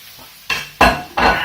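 A spoon scrapes and knocks in a pan three times as spinach leaves are stirred into a pasta sauce, with a soft sizzle underneath.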